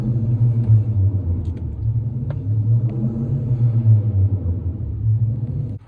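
A race car engine idling in a workshop, a deep, loud, pulsing rumble that holds steady with slight rises and falls, plus a few faint clicks in the background.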